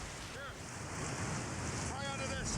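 Ocean waves and surf wash steadily in the open sea under strong gusting wind, a constant loud rush with faint whistling tones drifting through.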